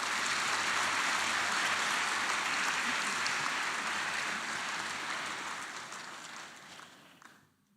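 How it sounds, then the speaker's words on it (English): Audience applause at a university convocation ceremony, a dense, sustained wash of clapping from a large crowd that holds steady, then gradually thins and fades out near the end. "let's give a big applause for the university and the teachers who taught you in this school"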